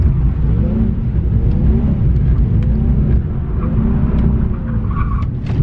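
A car on a compact drift-training area revs with its handbrake pulled up, giving a loud, continuous close-up engine roar that holds steady throughout, with faint scrabbling noises near the end.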